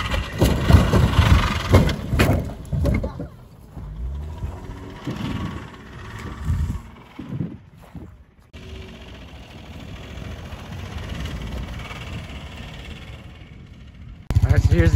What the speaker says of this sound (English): Van's got a badass engine knock.